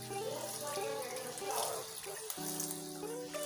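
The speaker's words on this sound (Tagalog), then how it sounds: "Ngayon ay naghuhugas ako ng spinach." Tap water runs steadily into a sink while spinach is washed, a continuous close gushing and splashing with a shift in tone midway, and a voice speaks over it.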